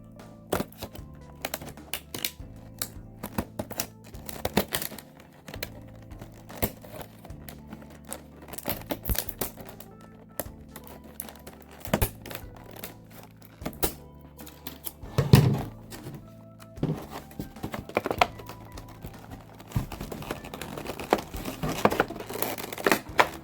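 Plastic toy packaging for The Batman Batlink toy being cut open, with irregular faint crinkling, snipping and rustling in uneven bursts throughout and no talking.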